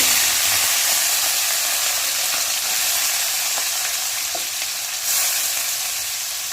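Mutton frying in hot oil in a pan, a loud, continuous sizzle and hiss with faint stirring scrapes, no voices.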